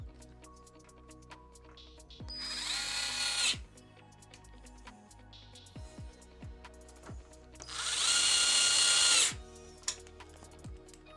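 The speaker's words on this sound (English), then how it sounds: "this time round we'll actually put 4 screws in instead of just putting 2" A cordless power drill drives screws to fit a PC power supply into a case in two loud, close bursts of about a second each, with quiet clicks and handling knocks in between.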